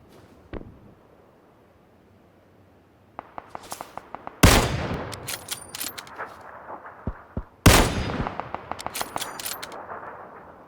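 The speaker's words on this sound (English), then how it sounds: "one person starts shooting, and those shots are not being aimed at you" Gunfire in the video game PlayerUnknown's Battlegrounds: a faint early shot, then bursts of distant automatic fire punctuated by two loud, close, echoing gunshots, with sharp reports trailing off between them.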